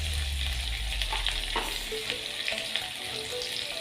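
Ginger paste with turmeric, cumin and Kashmiri chilli powders is sautéed in a pan, giving a continuous close sizzle broken by a few scraping stirs, with a low rumble early on and no talking.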